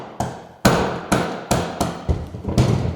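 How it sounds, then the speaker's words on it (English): Six sharp hammer blows strike in an irregular rhythm, each a loud close impact with a short ringing decay. "I've got a hammer to get a little bit more oomph going in here"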